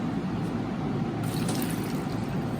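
Water poured into a pressure cooker for dhansaak, a steady close splashing trickle with a brief brighter burst midway, with no talking.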